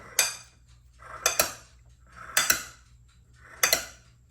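Pasta noodles being mixed in a pot give four separate bursts of metal clinking and scraping, each a quick double knock of utensil against pot, close and clear with quiet gaps between.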